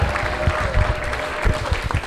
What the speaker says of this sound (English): let's give Elevera a huge round of applause, folks